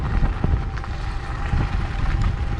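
Gusty wind buffeting a microphone on an electric scooter (Nanrobot D6+) riding over gravel at about 15 mph on a windy day, a constant low rumble with uneven thumps and no talk.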